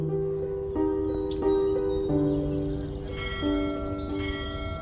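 Temple bells ring in layered, sustained metallic tones at a morning temple, several strikes overlapping and fading, with soft bird chirps faintly in the background.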